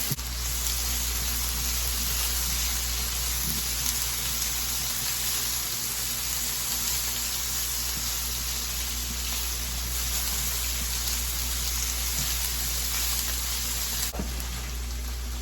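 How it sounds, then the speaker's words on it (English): Potatoes frying in a pan while a burger is being made, giving a steady, close hiss of sizzling fat that runs the whole time with no voices. "Let's stir the potatoes again. Ooh, they're browning on the one side."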